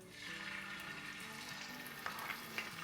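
Ginger and garlic paste frying in hot oil in a pan gives a steady, continuous sizzle with a few sharper pops and crackles near the end, close and moderately quiet, with no talking.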